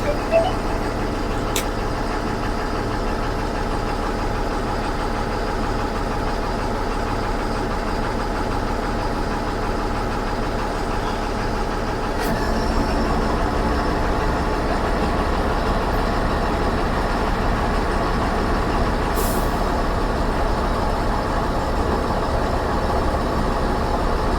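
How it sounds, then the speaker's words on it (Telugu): The Tata Cummins engine of a Tata Prakash Capella bus runs at a steady low idle, a continuous rumbling drone with a slight change in tone partway through, close and unbroken, with no talk over it. "ఇదైతే టాటా కమిన్స్ ఇంజన్"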